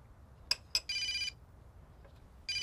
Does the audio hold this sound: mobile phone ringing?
yes